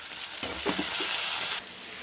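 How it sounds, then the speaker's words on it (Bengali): Tomato and green chili paste frying in a pan with vegetables, a bright steady sizzle that swells as the ingredients hit the oil, with a short stirring scrape midway, no voices. "টমেটোটা দিয়ে দিলাম, আর এই যে লঙ্কা পেস্টটা দিয়ে দিলাম।"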